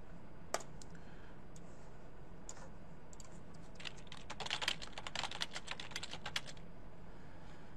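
Typing on a computer keyboard, with sparse faint key clicks at first, then a denser run of quick keystrokes in the middle of the clip, in a quiet room.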